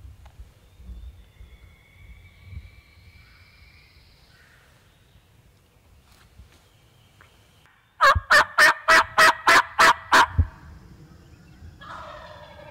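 A Mountain State turkey game call imitates a turkey gobble in a loud, close burst of about eight rapid rhythmic pulses, following a quiet outdoor stretch with faint distant sounds.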